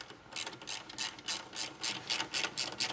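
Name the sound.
ratchet tightening a nut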